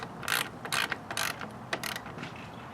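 A ratchet clicks in short bursts while tightening a radiator bolt into plastic on a 2013 Kia Optima SX Turbo, several quick close ratcheting runs separated by brief pauses.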